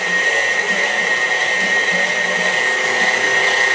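An electric mixer runs steadily through cake batter as cream is added, its motor whining at a constant, loud pitch for the whole stretch with no talking.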